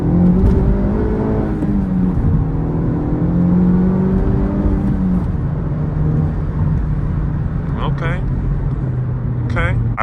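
A Honda Civic Type R FL5 drives along steadily, its engine and road noise a constant close drone inside the cabin with some whirring shifts in pitch, while a person talks throughout over it.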